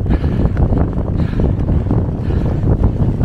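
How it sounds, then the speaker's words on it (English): Strong gusting wind buffets the microphone out on open fells during a fell race, a steady loud roar with broadband rumble throughout, no voices. "The wind is relentless, making it pretty hard."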